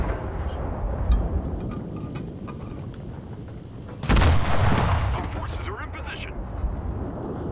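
Gunfire and heavy blasts in the World War II shooter game Enlisted, Battle of Berlin, with tanks such as a Panther G in play; a loud burst around the middle stands out over steady battle noise and a talking player.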